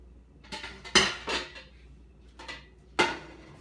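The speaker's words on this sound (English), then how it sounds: "But I'm getting my pot out." Several clanks and clatters of a metal cooking pot being taken out and set down in a kitchen, a few separate knocks with quiet pauses between them.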